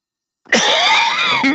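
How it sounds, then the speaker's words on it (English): A single harsh, throaty cough from a man in a woodturning workshop bursts out loud after a brief silence and rasps on for about a second. "Excuse me, terrible bad cough."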